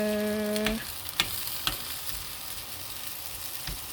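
Minced beef and minced pork menudo fries in a pan with a steady, loud sizzle, broken by a few light taps and scrapes of a stirring utensil; a brief tonal hum fades out early on, and no one speaks.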